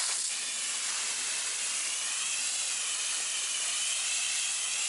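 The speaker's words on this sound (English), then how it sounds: "Regular garden hose, no power washer here." A regular garden hose sprays water onto a car wheel to rinse it, giving a steady, loud, even hiss that holds unbroken for the whole stretch with no voices.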